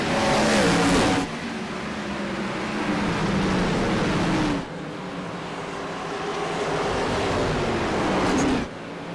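Race cars accelerating out of turn 4 on a green-flag restart at North Wilkesboro short track, a pack of engines roaring loud and steady as they pass, swelling and dropping in waves as groups go by.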